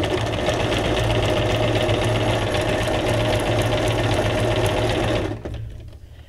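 A sewing machine stitches paper junk journal ephemera, running in a fast continuous mechanical whir up close, then stopping abruptly near the end.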